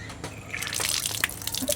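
Water runs steadily from a campsite sink tap at a car-camping site in Tagaytay, a close, continuous splashing gush with no talking.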